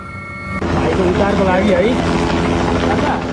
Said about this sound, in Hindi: बचाने के लिए हेलीकॉप्टर लगाए जा रहे हैं